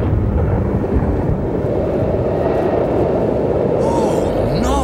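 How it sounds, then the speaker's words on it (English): Cartoon thunderstorm at sea: a loud, continuous roar of wind, rain and rumbling thunder fills the whole stretch, with rising whooshing swells near the end. "Captain, I've never seen a storm like that."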